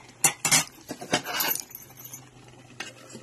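A lid is set onto a cooking pot while a tomato chutney is being made, giving a few sharp metallic clinks and clatters in quick succession near the mic, followed by a quiet pause and one last light clink.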